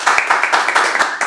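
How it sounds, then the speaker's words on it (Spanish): An audience applauds at a Chilean civic dialogue event, with dense, steady clapping from a crowd close by that continues without a break. "Aplausos, por favor"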